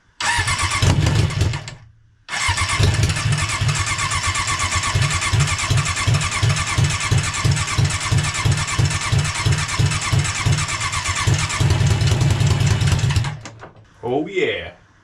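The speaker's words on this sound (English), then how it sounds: "So the motor's firing up now, which is pretty great." A Suzuki GSX 600F motorcycle engine cranks, briefly cuts out, then fires and runs with a loud, steady pulsing rumble close by before shutting off, followed by a short burst of speech.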